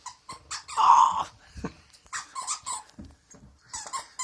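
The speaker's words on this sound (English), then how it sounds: "She does love squeaky toys." A dog plays with a new squeaky toy, giving one loud squeak followed by a run of short, irregular squeaks and chewing sounds, with soft growls and breathing close by.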